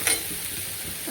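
Masala gravy frying in oil for Maharashtrian shev bhaji, a soft, steady sizzle with faint stirring, quiet and continuous throughout with no talking.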